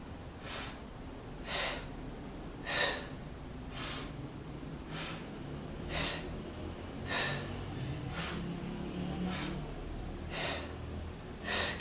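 Close, rhythmic breathing during halfway sit-ups: sharp audible exhales about every second or so in a regular pattern, with softer inhales between, in a quiet room.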